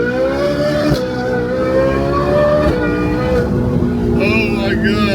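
A Chevy-powered Ferrari engine revs hard up close, a loud, rising, harmonic-rich howl that climbs, drops sharply, then climbs again, with brief faint voices.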